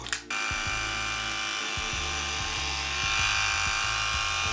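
An electric head shaver buzzes steadily and loudly after a brief click on, its motor hum shifting slightly in pitch as it runs alone.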